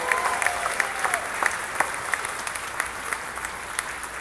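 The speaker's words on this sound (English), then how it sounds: "Give them all a round of applause." An audience at an anniversary gala gives a sustained round of applause, a dense, even wash of many hands clapping from a hall, with a faint voice briefly audible.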